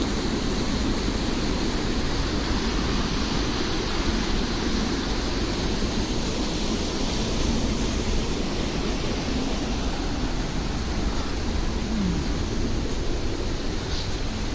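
Rushing glacial meltwater pours through the turquoise river gorge of Leutascher Geisterklamm, a steady, dense roar of water that fills the whole clip without letup and with no talk over it.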